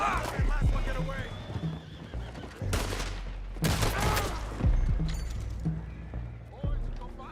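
Horses neigh and whinny repeatedly in a Red Dead Redemption game scene, mixed with hoof clip-clop, bursts of gunfire and game speech, loud and busy throughout.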